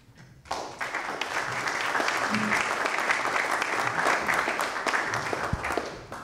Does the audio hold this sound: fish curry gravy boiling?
no